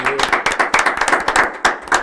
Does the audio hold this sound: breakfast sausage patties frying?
no